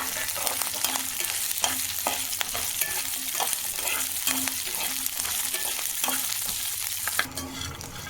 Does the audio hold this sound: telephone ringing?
no